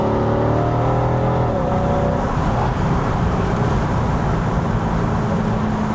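A Mercedes-AMG SLK55 roadster engine pulling through its 7-speed automatic, one clear shift dropping the revs before the engine climbs again, loud and close, with road noise and no talk.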